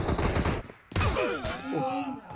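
Rapid bursts of gunfire in a multiplayer shooter game, loud and close, a dense volley cutting off abruptly, then resuming with a muffled voice and groan-like sounds underneath.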